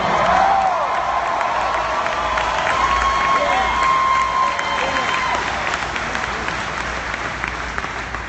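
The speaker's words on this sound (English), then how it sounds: "Come on, clap your hands" A large audience at a company homecoming event claps and cheers, with whoops and shouts over continuous applause that gradually fades slightly.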